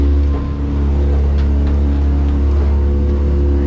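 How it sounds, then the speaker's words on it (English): A boat's wastewater drain pump on a 2019 Stabicraft 25 Ultra Cab runs with a steady, loud low hum and an even mechanical drone, no voices. "And then you hit this wastewater pump right here."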